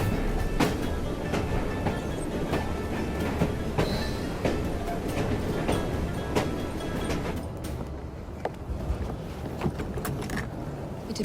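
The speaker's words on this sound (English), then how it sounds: "At least we have a train now." A train in Assassin's Creed Syndicate rumbles along steadily, with a continuous heavy roll and rhythmic wheel clatter heard close and alone.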